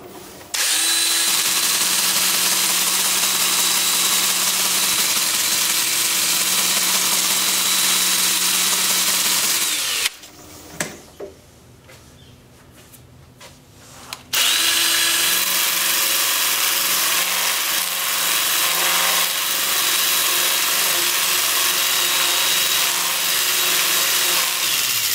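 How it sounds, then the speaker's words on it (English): A Sandoflex sander works the bark off a redwood vase spinning on a wood lathe, a loud steady whirring grind that runs continuously, drops away briefly in the middle, then resumes at full strength. "start the sanding with my Sandoflex. Sanding the bark, and the idea here is just to get off all the loose stuff"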